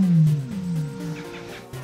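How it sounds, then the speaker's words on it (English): A male ostrich gives a low, growling mating call, a deep falling rumble that lasts about a second and a half, close and alone. "That sort of low growling noise that an ostrich makes."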